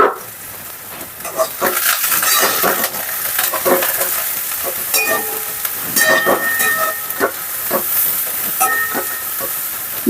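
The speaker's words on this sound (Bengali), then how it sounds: "এবার বেগুনগুলো আমি ছেড়ে দিচ্ছি বেগুনগুলোকে ভালো করে ভেজে নিতে হবে" Eggplant pieces frying in hot oil while cooking a drumstick-flower dish: a steady, dense sizzle runs throughout with scattered crackles and stirring clatter, close and fairly loud, no voices.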